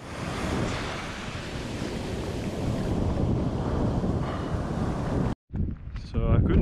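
Surf rolling onto an empty Greenleaf Beach on the Eyre Peninsula, a steady loud wash of breaking waves with heavy wind buffeting the microphone, then a brief cutout and a moment of voice near the end.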